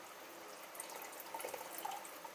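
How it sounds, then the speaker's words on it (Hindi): Water poured from a vessel into a pot of cooking Punjabi yakhni chicken pulao, a soft, steady splashing and trickling with a few brief drips, faint and close. "अब मैं इसमें पानी डाल दूँगी।"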